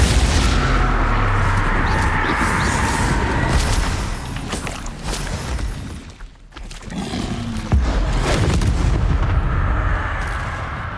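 Incendio and Confringo spells cast in the game Hogwarts Legacy produce a dense barrage of loud fiery blasts and booming impacts. The noise briefly dips midway, then resumes with more explosions and crackle.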